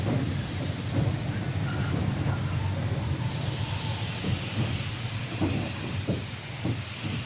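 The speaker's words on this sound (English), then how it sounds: "the wheezy, querulous train drew to a stop at our destination" A wheezy steam train draws to a stop at a station at dusk, a broad steady hiss with low rumbling and irregular clanks and chuffs, fairly loud and continuous.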